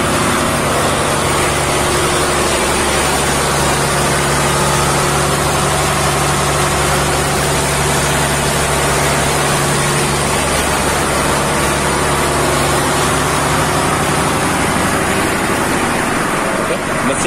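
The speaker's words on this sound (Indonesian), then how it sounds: "Kita cek mesin dulu." Engine of a tanker ship carrying palm oil cargo, idling loud and steady with a constant low hum and drone that runs unchanged throughout.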